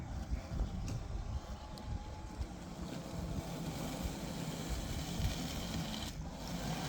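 A robotic lawn mower runs its cutting motor while reversing over tall grass, giving a steady, moderately loud whirring drone with no speech.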